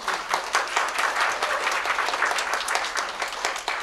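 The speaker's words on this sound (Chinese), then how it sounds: "俾耶稣个鼓掌好唔好" Church congregation applauding, a lively burst of many hands clapping in a hall, fairly even and sustained for several seconds, moderately loud without any talk over it.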